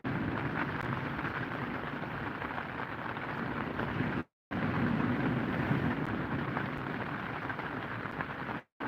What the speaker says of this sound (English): As you can hear, it started raining with a vengeance again.